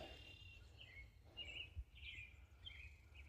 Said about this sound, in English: I hope you can hear those birds.